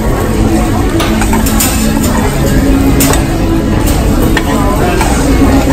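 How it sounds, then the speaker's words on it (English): Pineapple for bananas-Foster-style dessert cooking in a pan at a Waikiki steakhouse, a steady loud sizzle with stirring and faint utensil clinks throughout, with voices murmuring beneath. "Continue to cook the pineapple."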